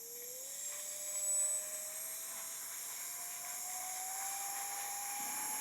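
A Jisulife Ultra1 portable fan running at 75% speed, giving a steady high-pitched motor whine with airy hiss, the tone rising slowly as the motor spins up; fairly quiet and continuous, heard alone without talk.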